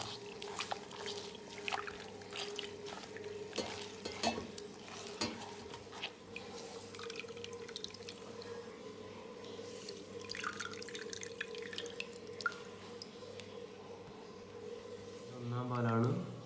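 Grated coconut squeezed by hand to extract coconut milk for Kerala-style ada pradhaman, faint wet squelching and dripping liquid close by, under a quiet speaking voice.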